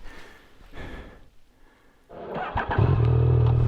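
A Yamaha Niken GT three-wheeled motorcycle rides on a greasy road in heavy rain. A quiet, rustling stretch gives way to the engine rising and then holding a loud, steady, close-up drone.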